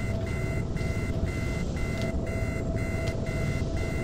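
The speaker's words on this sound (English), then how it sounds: "No, I can hear still a beeping." A repeating electronic beep pulses in a steady rhythm inside the video game Arma, over a constant low rumble of engine noise.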